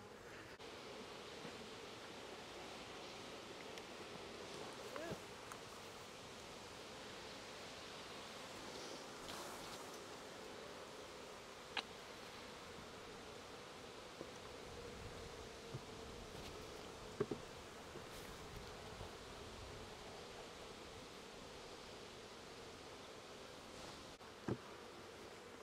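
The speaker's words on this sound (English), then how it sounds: "I'm just going to shake a bunch of bees off into there" Soft, steady buzzing from many honeybees hovering close around a hive frame, with faint rustling and a few light knocks, no talking.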